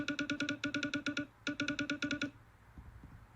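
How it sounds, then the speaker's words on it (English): On an iPhone with VoiceOver, dragging a finger across empty space at the bottom of the home screen triggers rapid bursts of bright, clicky pulsed tones in two clustered runs, then a fainter soft rustle. "this is the sound of dragging on empty space, like at the bottom of the home screen"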